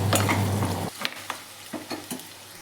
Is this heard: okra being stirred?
yes